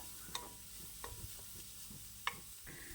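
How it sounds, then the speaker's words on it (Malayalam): Sliced onions (savala) sauté in a pan for a plantain (vazhakka) thoran, with a quiet steady sizzle and occasional stirring taps and scrapes, fairly faint and close. "സവാള വഴറ്റി കഴിഞ്ഞിട്ട് ഇനി വേറെ ഒന്നും ഒത്തിരി വഴറ്റാനും ഒന്നും തന്നെയില്ല"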